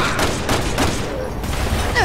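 Rapid bursts of gunfire in the video game Resident Evil 6, several close, loud shots in quick succession over about two seconds, with game effects and faint voices around them.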